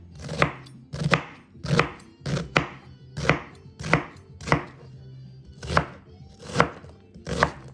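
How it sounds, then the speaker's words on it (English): A knife chops through half of a large onion on a cutting board, about a dozen sharp, evenly spaced thuds close up with no voices. "So I'm gonna cut, this is about 1/2 of a large onion"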